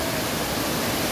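Continuous broadband roar of Twin Falls waterfall in Dimiao, steady and loud with no break, rushing water filling the whole clip without voices.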